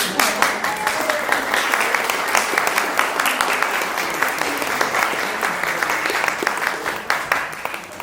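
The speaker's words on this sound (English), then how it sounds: "Let's give a round of applause to MaLin, everybody." Steady applause from a lecture audience honoring a speaker at a talk on World War II artists, many hands clapping together at an even, full volume throughout without pause.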